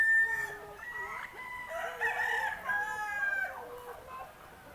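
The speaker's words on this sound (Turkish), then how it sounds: "burada küçük horozlar var" Several young roosters crow and cluck together nearby, their strained, reedy calls overlapping continuously with no talking.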